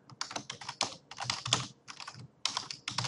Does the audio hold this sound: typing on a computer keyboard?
yes